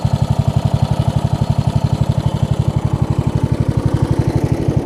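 A Craftsman LT1000 riding mower's engine runs close by with a loud, even, rapid chugging pulse; the mower is straining its belt and may have a failing deck spindle.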